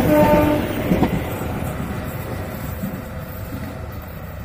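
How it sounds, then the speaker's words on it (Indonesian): An Indoho passenger train races past a level crossing near rice fields in Blitar in the late afternoon, a loud, close, continuous rumble and rattle of wheels and carriages that slowly eases as it moves away, a horn tone briefly at the start. "Kereta api Indoho berjalan ngebut."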